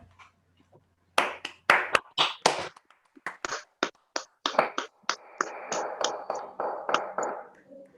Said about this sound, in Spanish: Carlos, Juan, José, hacemos un aplauso